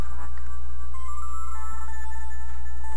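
An old cell phone rings in The Charnel House Trilogy video game, its electronic ringtone pattern repeating over a steady low background drone, no one talking.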